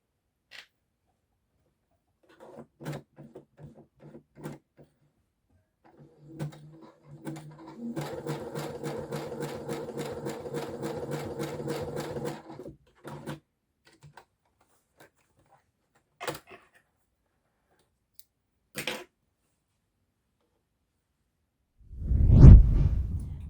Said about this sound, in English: We're going to make the buttonholes on the button band, and then we can sew the buttons on